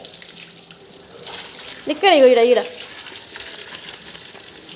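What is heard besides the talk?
water running from a tap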